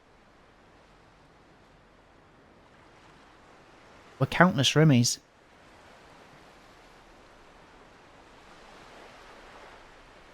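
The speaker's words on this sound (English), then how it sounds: "Waves ran across the surface of water" Soft, steady wash of waves on water in the visual novel Chaos;Head forms a faint background, briefly interrupted by a voice speaking, then swelling slightly toward the end.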